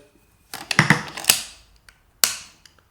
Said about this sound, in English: you also have a safety catch just here. Pushes left to right for safe